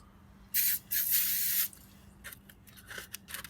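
3M adhesive remover is sprayed onto a car wheel in two close, loud hissing bursts from an aerosol can, followed by quieter dripping, rubbing and handling noises.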